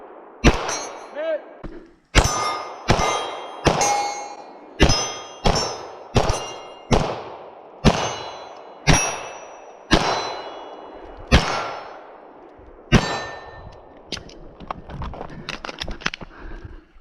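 Bullets from a Staccato P Limited pistol strike steel shooting targets, each hit a sharp ringing clang, about a dozen spaced strikes with ringing decay, then a quicker flurry of fainter pings at the end.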